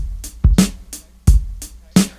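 A custom electronic drum kit of kick, snare and hi-hat plays a short, punchy loop: loud low kicks and crisp snare hits alternate with lighter ticking hi-hats in a steady groove.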